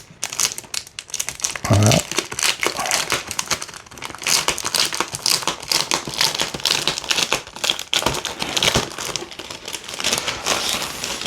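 Plastic bags of board game tokens are torn open and crinkled during a board game unboxing, a near, steady rustling and crackling that runs throughout, with brief talk in French over it.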